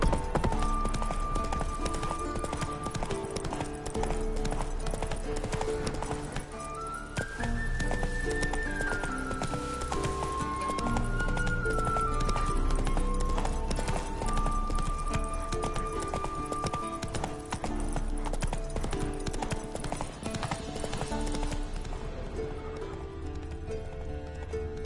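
Roach's hooves clip-clop steadily under Geralt in The Witcher 3 as he rides, a constant rhythmic trot beneath a prominent orchestral game score that runs the whole length.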